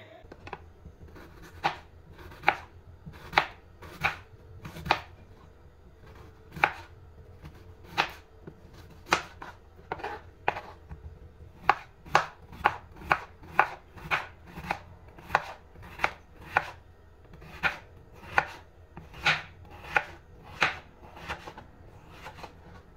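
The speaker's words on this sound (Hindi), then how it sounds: "मैंने आलू यहाँ पे छील के रख दिए अब मैं इनको गोल गोल काट लेती हूँ" A knife chops peeled potatoes into round slices on a board, crisp steady knocks about once or twice a second, close and distinct, quickening slightly midway, with no talk.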